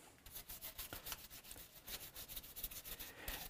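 Finish coats being hand-rubbed onto the body of a Hofner Galaxie guitar: soft, close, repeated swishing strokes in a steady back-and-forth rhythm, quiet, with no talking.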